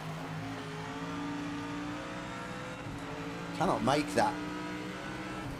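A race car engine in Project Motor Racing drones steadily throughout, with a brief sharper surge and rising rev sweep near the end, heard beneath a voice talking.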